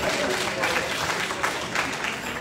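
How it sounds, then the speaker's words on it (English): Audience at a live gospel quartet concert applauding, a dense, continuous wash of many hands clapping at fairly close range throughout, with no individual voices standing out. "Clap your hands for them if you will. Clap your hands."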